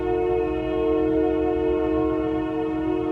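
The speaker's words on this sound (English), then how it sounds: "This train is rude. I don't even know where it's at," A loud passing train sounds a sustained, steady horn blast with strong harmonic tones over a low rumble, continuous throughout and close by.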